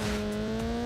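Steady engine drone of a car in the racing video game Need for Speed Underground Rivals, a sustained whine with a firm low hum running alone through the short moment.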